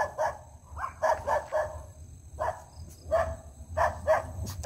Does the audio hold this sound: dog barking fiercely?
yes